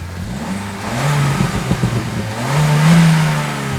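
A 2019 Suzuki Swift Sport with a 1.4 Boosterjet turbo engine and twin exhaust pipes accelerates hard, its sharp, sporty engine note swelling and climbing in two loud rising pulls, with no voices.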